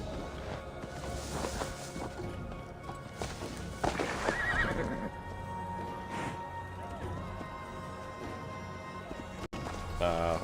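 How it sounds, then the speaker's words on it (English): A horse in Assassin's Creed Valhalla snorts and whinnies between steady clip-clopping hooves on a mountain climb, with game ambience throughout and another brief neigh near the end. "Horse is having issues here."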